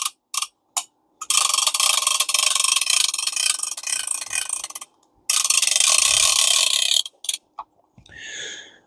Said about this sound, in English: You can cut the ratchet off so you don't have to listen to that. Well, it's still got a little, that's the anti-reverse.